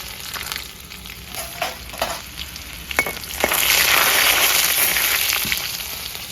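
Dried red chilies, whole cumin seeds and chopped garlic hit hot oil, starting with scattered pops and light sizzling that swells into a loud, sustained frying hiss in the second half; nobody speaks.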